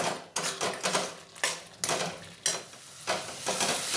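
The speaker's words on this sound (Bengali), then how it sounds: "এবার মশলাটা খুব ভালোভাবে কষিয়ে নেব।" A spice paste with garam masala fries in a pan for lau chingri, sizzling while it is stirred in rhythmic scraping bursts about every half second. The stirring is close and moderately loud, and no one speaks.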